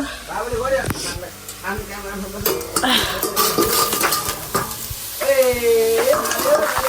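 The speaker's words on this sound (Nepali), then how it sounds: "यहाँ गाउँको अर्ग्यानिक हाम्रो अर्ग्यानिक लसुन अनि यहाँ चना पाक्दैछ" Garlic and chickpeas cook in a pan, with a soft sizzle under clinks of a utensil stirring against metal while someone speaks over the kitchen sounds.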